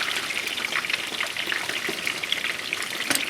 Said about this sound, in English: so I'm going to stir this